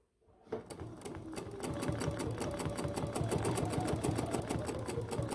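A Bernina sewing machine stitches with its stitch regulator at a slower setting, giving a steady, even mechanical whir with a regular rapid needle tick, close and continuous after a brief start.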